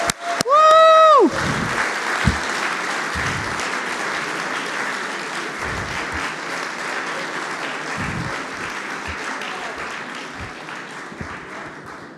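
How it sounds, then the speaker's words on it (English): Sustained audience applause at a SWERC programming contest closing ceremony, broad clapping from a large crowd with a few cheers, following a brief tonal sound at the start and continuing steadily to the end. "A big round of applause for Harvard Space University robots."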